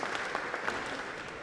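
A short burst of audience applause at a tech hackathon demo session, dense steady clapping from a crowd at moderate distance.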